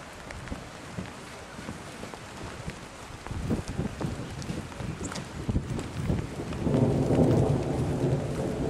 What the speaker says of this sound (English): So Fernando, when does lightning stop?